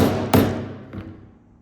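A single sharp hammer strike lands on a clip set into a belt, a loud close thud followed by a fainter second tap that rings out and fades.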